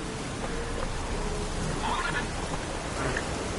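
Roach, Geralt's horse in The Witcher 3, gives faint whinnies under steady rain-like noise, brief rising calls around the middle and near the end.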